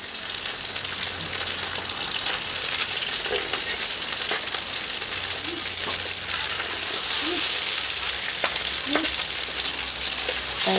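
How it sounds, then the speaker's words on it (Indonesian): Spice paste fries in a pan with steady, loud sizzling, a continuous hiss with occasional soft pops and stirring scrapes, no voices. "Kita goreng dulu. Kita goreng bumbunya."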